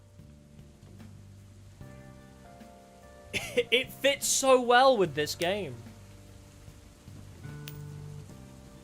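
Soft ambient rain hisses beneath the music, whose tonal melody swells in the middle; someone speaks briefly over it.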